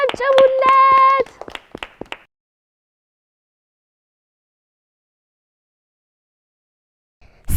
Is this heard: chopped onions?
no